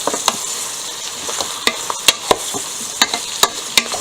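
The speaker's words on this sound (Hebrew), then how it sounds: "מערבבים." Strips of bell pepper and a medium eggplant being stirred in an Easy Cook pot, steady oil sizzle broken by repeated sharp scraping clacks of the utensil at an irregular, brisk rhythm.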